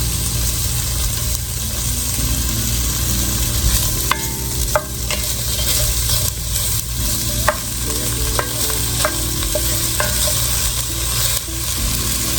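Greens and andouille sausage frying in a pan with steady sizzling and occasional scrapes of a stirring utensil, close and continuous throughout, no talking.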